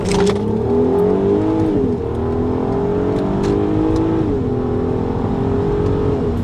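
A Volkswagen Golf 5 R32 accelerates hard from inside the car, its engine note climbing steadily, briefly dipping twice at the shifts before pulling on again, loud and continuous.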